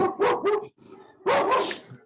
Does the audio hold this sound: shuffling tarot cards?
no